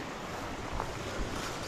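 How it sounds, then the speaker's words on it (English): Water flowing at a snowy winter creek crossing on a hiking trail in Bair Canyon, Utah, a steady broadband wash with wind noise, close and continuous with no talk. "we're at the second creek crossing"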